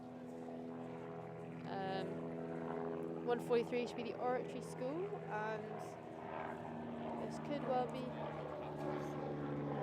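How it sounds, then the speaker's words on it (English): A plane and a helicopter drone overhead above a river during the Schools Head of the River rowing race, a steady low engine hum running under continuous commentary. "I'm sorry about the plane and the helicopter."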